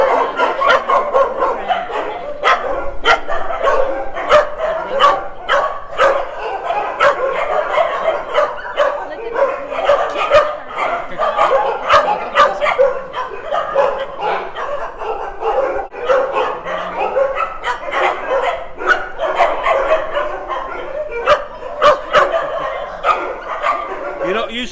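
Many dogs bark and yip repeatedly at close range in a busy chorus at the Soi Dog Foundation shelter in Phuket, with a few whimpers mixed in. People talk quietly underneath.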